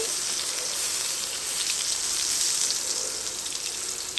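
Taro pieces fry in oil in a pan with a dense, even crackling sizzle like steady rain, close and unbroken throughout.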